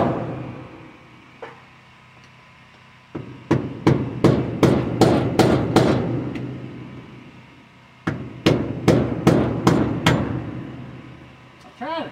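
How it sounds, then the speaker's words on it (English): A hammer pounds metal on the body of a 1957 Bel Air, two loud close bursts of about seven sharp ringing blows each, evenly spaced, separated by a pause. "Need a hammer."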